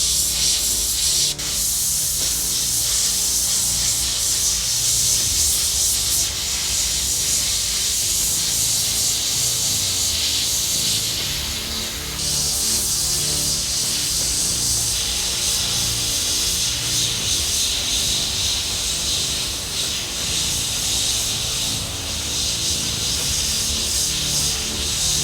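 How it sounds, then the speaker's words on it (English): An airbrush sprays paint onto a skull mask, a steady close airy hiss that carries on almost unbroken for about twenty-five seconds with only slight dips in strength. "when you're painting, you are painting a 3D object, so overspray is going to travel, so you need to angle your airbrush accordingly"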